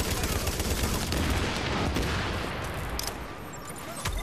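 Gunfire rattles in The Division video game, with dense, rapid bursts of shots crackling almost continuously before thinning toward the end.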